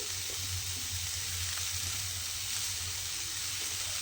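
A steady, soft sizzle of radish greens frying in a pan, an even crackling hiss with a low hum underneath and no talking.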